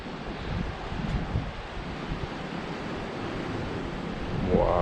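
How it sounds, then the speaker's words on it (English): Caribbean ocean waves wash steadily at El Morro fort in San Juan, Puerto Rico: a continuous broadband surf roar mixed with wind buffeting the microphone, holding level throughout and swelling slightly near the end. "Look at the ocean, Caribbean Ocean."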